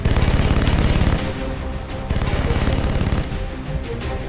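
Rapid bursts of suppressing gunfire in a video game, loud and close, with dense automatic fire at the start and then continuing in choppier rhythmic volleys.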